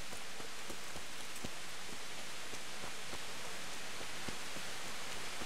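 Steady rain falls on foliage in the medieval game Kingdom Come: Deliverance, a continuous even hiss scattered with soft pattering drops, with no voices.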